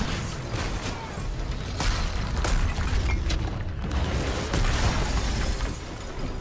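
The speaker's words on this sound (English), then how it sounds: "Explosion." Destruction in Marvel's Avengers as the Hulk smashes a gamma device: dense, rumbling crashes and shattering debris with sharp bursts rolling on continuously at steady loudness.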